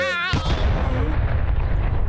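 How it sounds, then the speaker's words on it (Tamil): A cartoon cup explodes in the Tamil cartoon Bablu Dablu Forest Frenzy, a sudden burst after a short rising tone, then a rough crackling, rumbling blast tails off over about two seconds. "அந்த கப்பு வெடிச்சிருச்சு"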